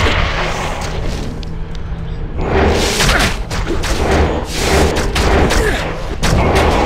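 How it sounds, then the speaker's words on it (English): A Colossus firing beams in Diablo 2, a continuous barrage of heavy thumps and booming blasts that swells after a brief lull and stays loud to the end. "Look at it shooting Colossus beams."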